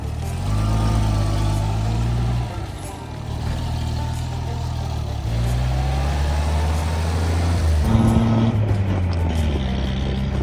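A truck, likely an old 1940s Ford prone to overheating, drives out of the desert on the Arizona Strip. A loud, steady engine drone rises and falls with gear changes, heard from inside the cab.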